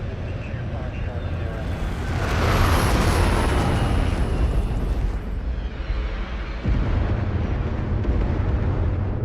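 Air strike explosion on a target: a heavy, rumbling roar that surges about two seconds in and stays dense and loud, with a jet-like whine over it and voices talking underneath.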